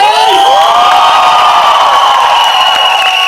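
A college crowd at a film song launch event cheers and whoops loudly, a close, continuous wash of shouting voices with high yells riding on top throughout the short burst.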